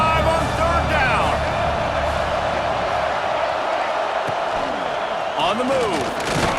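Ohio State Buckeye football crowd roaring on third down inside the stadium, a dense, sustained wall of cheering with chant-like voices rising through it and a commentator talking over the noise.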